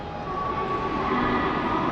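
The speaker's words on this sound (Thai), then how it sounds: "รถไฟเราจีนมาแล้วเด้อ" Laos-China express train at a station, a steady rumble with a sustained tonal whine holding throughout at even, moderately loud level.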